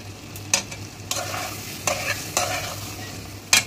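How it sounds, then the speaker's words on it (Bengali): Ridge gourd, potato and poppy seed curry being stirred in a pan, with several distinct spatula scrapes and knocks spaced about half a second to a second apart over a low simmer; no one speaks. "একটু নেড়ে চেড়ে মাখো মাখো হয়ে গেলে"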